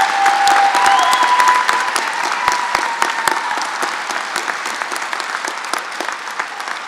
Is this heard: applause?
yes